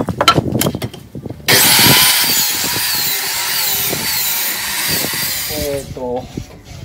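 A circular saw cuts grooves into wood for a homemade baby gate, its loud, harsh whine running for about four seconds between clattering handling noises and bits of speech.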